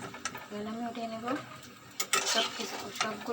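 Afternoon snacks fry in a pan with scraping, stirring and soft sizzling, and metal clinks against the pan, while a voice speaks briefly over the cooking.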